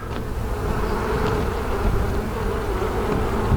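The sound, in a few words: honey bees buzzing during hive frame inspection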